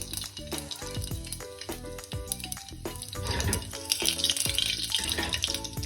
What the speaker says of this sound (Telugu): సో మాడకుండా లో ఫ్లేమ్లో ఫ్రై చేసుకోండి.